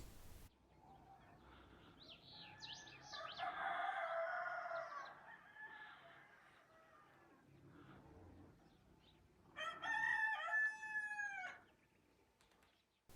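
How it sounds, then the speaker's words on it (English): A rooster crows twice in a quiet mountain setting near Imlil, Morocco, the first call long and drawn out, the second shorter and a bit louder after a pause, fairly distant. "Apart from the odd cockerel warming his lungs."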